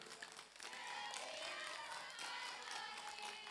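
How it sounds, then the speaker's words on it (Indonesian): A crowd at an outdoor church revival service in a village gives sustained applause, many hands clapping in a dense, steady wash after a brief opening pause. "Tepuk tangan."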